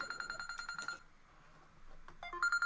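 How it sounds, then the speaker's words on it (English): A phone ringtone sounds for an incoming call during a Splatoon Clam Blitz match on Southern Island, playing a repeating electronic melody that stops partway through before another tone comes in. "Why am I getting a phone call?"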